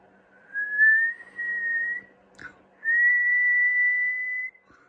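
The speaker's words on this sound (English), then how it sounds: "I'm going to whistle it up actually, see how many it goes up to." Two long, steady whistled tones separated by a short click, clear and close, whistled into a Midland CB radio on USB and sent through the transmitter.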